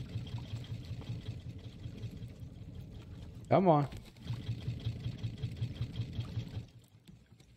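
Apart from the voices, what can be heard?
boat engine running in the video game Raft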